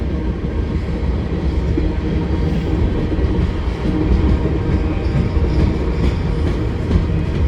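A long CN freight train rumbles steadily past at close range over the Lachine Canal bridge, a continuous loud roar of wheels and cars with faint rattling, no voices.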